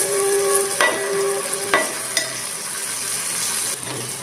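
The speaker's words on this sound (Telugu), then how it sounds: "తర్వాత నెక్స్ట్ మనం కలుపుకోవాలండి." Flattened rice poha with fenugreek leaves is stirred in a frying pan: a steady close sizzle broken by a few sharp metal clinks of the spatula against the pan. No one speaks.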